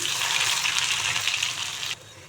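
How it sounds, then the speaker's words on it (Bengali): Whole spices and ginger sizzling in hot mustard oil, a steady loud hiss and crackle that carries on without a break, then drops suddenly quieter near the end. "প্রথমেই 5 ফোড়নগুলো দিয়ে দিচ্ছি, আদাগুলো দিয়ে দিচ্ছি"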